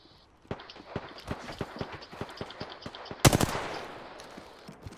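Gunfire in the Apex Legends battle royale on the Olympus map: a steady stream of rapid, evenly spaced automatic shots, then a sudden louder close-range burst, with the rattle continuing afterward.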